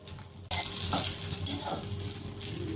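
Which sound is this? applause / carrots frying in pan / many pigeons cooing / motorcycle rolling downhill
carrots frying in pan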